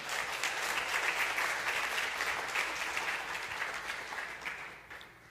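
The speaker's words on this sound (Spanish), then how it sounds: "Démosle un aplauso, por favor." An audience in a talk on divorce gives sustained, dense applause at an even level for about five seconds, then it stops abruptly.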